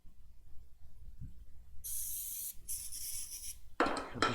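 Brake cleaner is sprayed into U-joint bore holes in a garage: two short hissing bursts in quick succession, then a louder, sharper spray near the end, with near silence in between.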